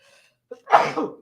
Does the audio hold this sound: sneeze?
yes